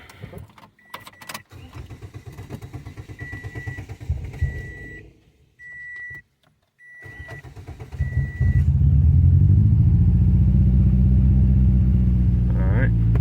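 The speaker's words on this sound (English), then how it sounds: "And now we're gonna start the car." A Toyota/Scion car engine cranks and catches after a fuel injector replacement, then settles into a loud steady idle after a stretch of clicks, a brief chime and shop noise.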